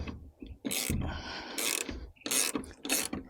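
A half-inch ratchet tightening a nut while installing a Decked Cargo Glide in a 2021 Dodge Ram 1500, close and loud, clicking in several quick bursts of strokes separated by short pauses, with no talking.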